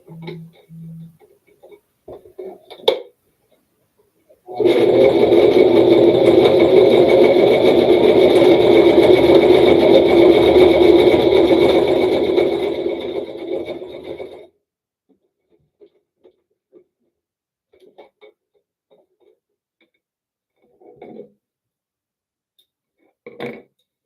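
Sewing machine stitching across tape in a workshop: one continuous loud mechanical whir lasting about ten seconds, with faint handling clicks and thumps before and after.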